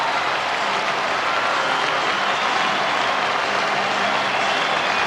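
Sporting applause from Falkirk supporters in a football stadium after a match, a dense, continuous wash of distant crowd clapping and noise that stays level throughout without a break.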